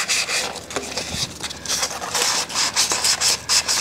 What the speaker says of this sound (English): do a light sanding to get all the residue off